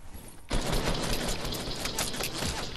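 Rapid gunfire from a Fortnite match erupts after a short quiet lead-in and continues as a dense, clattering volley for the rest of the moment, loud and close.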